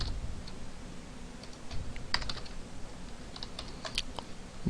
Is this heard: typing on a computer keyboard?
yes